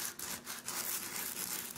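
Sandpaper rubbed back and forth over a coconut shell to make a pendant, a close, quiet rhythmic scratching with brief strokes repeating at an even pace, no voices.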